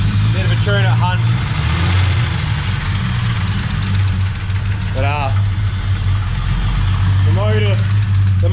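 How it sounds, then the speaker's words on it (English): A Holden VY V6 Commodore drift car engine running with a slightly noisy motor, a steady rough idle filling the background while someone talks over it. "But the motor's a bit noisy"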